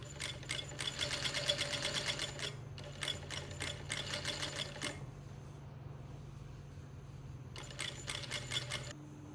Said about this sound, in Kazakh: Тіке тігіспен бір айырып тігеміз.